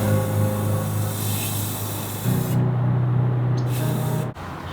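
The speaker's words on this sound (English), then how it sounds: "And then a straight coat of flat black." Aerosol spray can hissing as flat black paint coats a Mazda 3 shifter surround panel, a continuous close hiss that shifts once midway and stops abruptly near the end.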